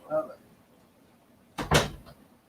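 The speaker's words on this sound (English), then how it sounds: "Shut the door for me." A door swings shut with a single solid thud and brief rattle near the end, after a short spoken word at the start in an otherwise quiet room.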